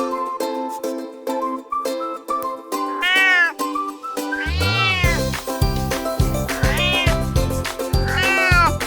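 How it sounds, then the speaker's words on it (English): A cat meows repeatedly, loud and close, over a bright, bouncy nursery-rhyme tune that carries on throughout. "cat"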